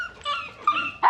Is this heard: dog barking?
yes